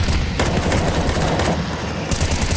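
Rapid bursts of M4 rifle fire in Counter-Strike 2 during a professional match, loud and continuous, with dense overlapping shots and no speech.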